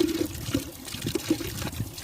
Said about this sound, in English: What an absolutely awesome, beautiful little water fountain, water source.